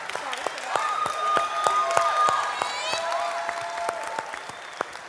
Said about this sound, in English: And thank you for the applause as well.